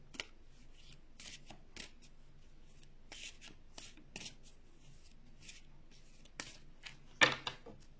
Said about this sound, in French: J'ai envie de ressortir encore une ou deux cartes de l'oracle